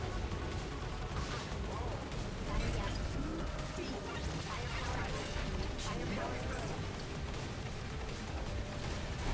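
Cannon fire booms during a fight with a Vespi in a video game, a steady barrage of thuds and crashes packed under busy game noise, while a player talks over it.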